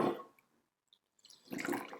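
Brewed Fukamushi sencha poured from a teapot, a short trickling splash that starts, stops briefly, then returns as a steadier close pour.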